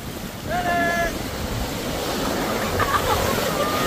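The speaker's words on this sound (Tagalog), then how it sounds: "Grabe, napakalakas ng alon." Heavy ocean waves at General Nakar, Quezon roar and wash continuously with strong wind buffeting, a brief tonal whistle early on and faint voices mixed in.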